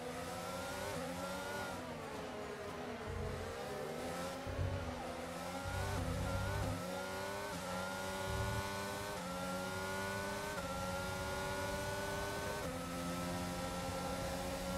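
Formula 1 race car engine in a racing game at Spain, Mercedes car battling rivals: a continuous loud, high-pitched whine rising and falling through gear changes, with other cars' engines layered close by, no talk.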